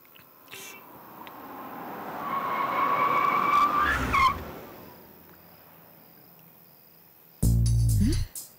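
A car arrives with tires skidding, a rising screech building to a loud squeal, then an abrupt heavy thud and clatter near the end, in a dubbed Telugu action film.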